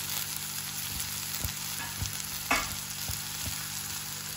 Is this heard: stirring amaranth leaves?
yes